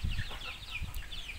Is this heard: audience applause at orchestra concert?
no